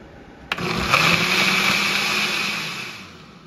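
A kitchen blender grinds chiles and garlic, starting with a sharp click and then a steady loud high whir that holds for about three seconds before easing slightly.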